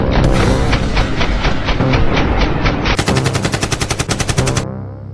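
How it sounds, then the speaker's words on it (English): A SWAT team's sustained gunfire, loud rapid automatic bursts with dense rhythmic reports, shifting to a faster sharper volley before cutting off. "The SWAT team continued to open fire at Matasareanu"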